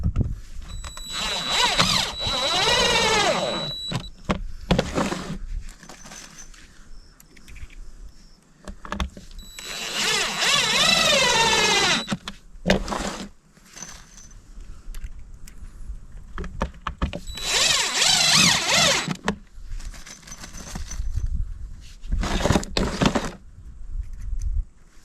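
A power drill drives screws into a plastic septic tank riser in three whining bursts that rise in pitch, separated by quieter handling, scraping and light clicks.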